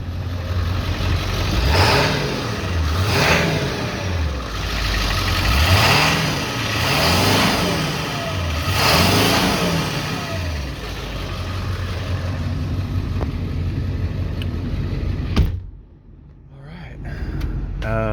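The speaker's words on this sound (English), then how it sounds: "Give it a rev underneath." A 2002 Ford F250 4WD truck's 7.3-liter engine revs repeatedly, rising and falling in several throaty surges over a steady idle, then cuts off near the end.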